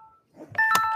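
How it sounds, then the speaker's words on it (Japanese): An incoming call sets off a telephone's electronic ring: a short tone, a brief pause with faint rustling, then a loud steady ringtone with clear pitched notes that lasts to the end. "なんか電話かかってきた"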